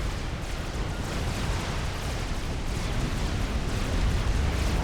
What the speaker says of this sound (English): Bomber flying overhead, gets a bomb away onto that Mex